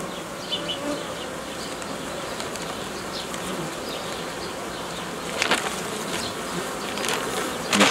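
Honeybees during hive merging produce a dense, continuous buzz close by, steady throughout with a few louder swells of individual bees passing near the end.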